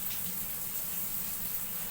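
A water spray runs steadily as a shower for a pet cockatiel's bath, a continuous hissing gush at moderate volume with no talking.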